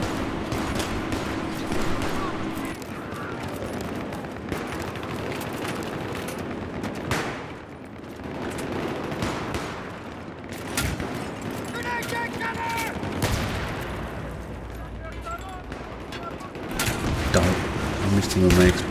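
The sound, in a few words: gunfire from video game Battlefield 3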